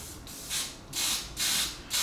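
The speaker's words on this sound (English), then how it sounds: "So I'm going to give those a spray with some brown." Four short bursts of brown aerosol spray paint hissing while weathering an O gauge model railway layout, evenly spaced with brief pauses, close and fairly quiet.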